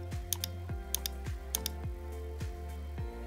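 Soft keystrokes on a computer keyboard as a password is typed, a run of light taps under a steady background tone with occasional brighter clicks.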